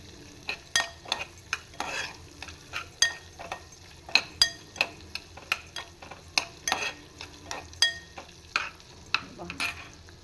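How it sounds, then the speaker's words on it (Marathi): Sautéing with asafoetida in a pan: a spatula stirs in a steady rhythm, giving sharp, close clinks and scrapes against the metal over a faint, low sizzle. "थोडा हिंग घातला आहे याच्यामध्ये आणि आता हे छान असे परतवून घेते."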